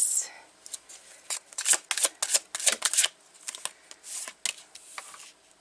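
Tarot cards being shuffled by hand in a quick, crisp run of riffling flicks and slaps, close and fairly loud, with brief bursts repeating across the stretch and no talking.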